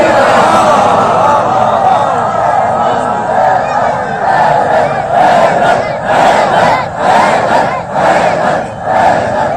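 A large crowd at a majlis in an imam bargah in Malir chants slogans together, a loud, dense roar of many voices rising and falling in rhythmic waves that fills the whole span without a break.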